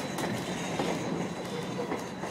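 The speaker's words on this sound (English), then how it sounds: "The steam locomotive pulling our train today" A train pulled by steam locomotive number 475 rumbles steadily along the rails at close range, with faint rhythmic clatter of wheels running underneath throughout.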